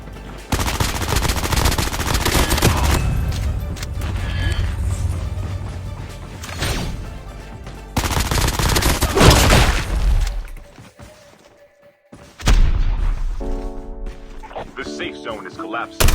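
AK-117 gunfire in Call of Duty Mobile, rapid automatic bursts with booms and mechanical clatter, loud and repeated, dropping to near silence before firing resumes.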